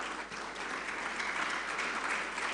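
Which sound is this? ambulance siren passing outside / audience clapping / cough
audience clapping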